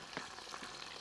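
Fish fillets dusted in plain flour, with chips, fry in a heavy-duty pan over an outdoor bush fire, giving a steady close sizzle with small crackling spits and no talk.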